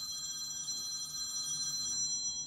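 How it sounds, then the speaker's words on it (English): A work phone rings with a faint, steady electronic trill that stops near the end, alone in a quiet room. "That is my work phone."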